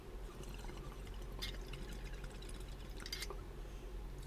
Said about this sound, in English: I think I got just the right amount of water in there.